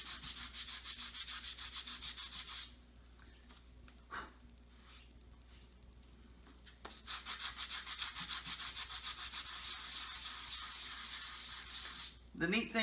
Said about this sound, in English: The neat thing about sanding cork is it doesn't have a grain, so you can sand it in any direction.